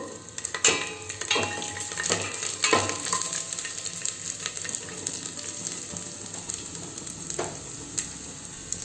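Onion, garlic and chilli frying in a pan for dal rice, a soft continuous sizzle broken by sharp scraping stirs and clinks of a ladle, close and fairly quiet, without speech.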